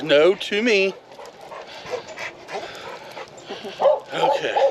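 A dog inside a parked car barks and yelps excitedly nearby, then whimpers and pants while a person speaks briefly over it.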